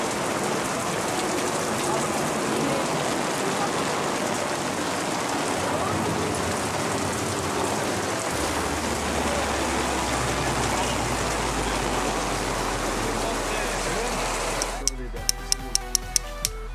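Heavy rain pours steadily in Switzerland while a grill runs, a dense continuous hiss throughout, joined near the end by a low steady hum and a few sharp ticks.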